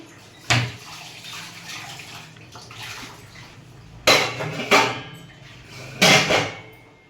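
Water is tipped into a pot of amaranth curry in a few separate splashing bursts, close and sharp, with quieter handling noises between the pours.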